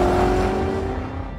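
A supercharged Chevrolet Corvette ZR1 engine revs loudly and close up, a steady high-powered roar with a whining tone that holds for over a second and eases slightly toward the end.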